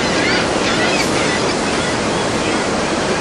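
Niagara Falls water plunging 175 feet, heard from a wet, windy viewing deck near its base: a loud, steady, unbroken roar of falling water mixed with wind buffeting, with no pauses throughout.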